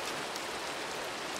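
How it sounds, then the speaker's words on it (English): Steady rain hisses on a surface, a soft, even wash of droplets heard alone. "And also rain."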